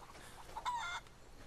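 Chickens in a pen cluck in the video game Rise of the Tomb Raider, a short burst of a single hen's clucking call rising briefly over a quiet ambient background.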